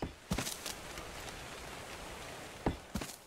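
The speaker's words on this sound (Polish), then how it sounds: "Znowu deszcz." Steady rain hisses throughout, with a few sharp, close taps and bumps breaking through at intervals.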